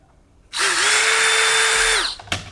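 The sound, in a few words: drill enlarging rivet hole in Kydex with 7/32 bit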